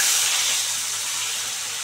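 Koi and leta fish fry in a pan in a home kitchen, giving off a loud, steady hiss of oil that fades only slightly and carries on without any talking.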